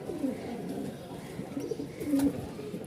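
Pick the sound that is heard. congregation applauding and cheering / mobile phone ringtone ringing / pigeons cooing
pigeons cooing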